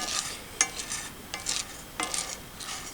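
Coffee beans roasting dark in a pan, stirred so they rustle and scrape in soft bursts roughly every half second, with a faint sizzle and crackle underneath; quiet and close, no talk.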